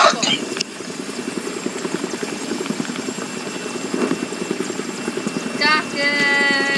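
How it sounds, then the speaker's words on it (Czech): Helicopter engine in a video game, a steady near whir with chopping pulses running throughout, while players talk over it. "Ty jsi pod tou helikoptérou."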